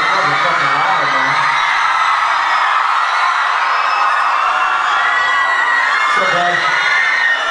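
A live rock concert crowd at Islington Academy cheers loudly, a dense sustained roar of shouts and whoops filling the venue, with someone briefly speaking over it.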